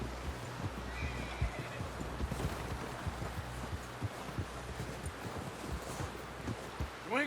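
Horse in the video game Red Dead Redemption 2 gives a faint whinny against a steady patter of hooves and rustling, all low and somewhat distant.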